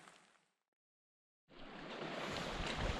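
Wind gusts and lake waves washing against something outdoors, fading out briefly, then returning as a steady, louder rush.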